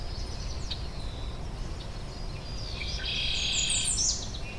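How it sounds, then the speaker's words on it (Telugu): Small birds chirp and tweet in short, faint calls along a quiet road, a few thin chirps early and a brighter cluster later over a steady low background rumble. "చెట్లు నిశ్శబ్దంగా చిన్న చిన్న పిట్టల సౌండ్"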